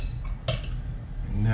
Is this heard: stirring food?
yes